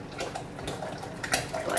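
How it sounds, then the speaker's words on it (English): Carrot ginger soup poured into a blender, with soft splashing and liquid glugs and a few light clinks of a pot or utensil against the container, close and fairly quiet. "I'm going to pour this into the blender."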